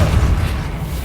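A Repulso spell cast in Hogwarts Legacy lands as a loud, deep booming rumble that swells and rolls on steadily for about a second, with no voices.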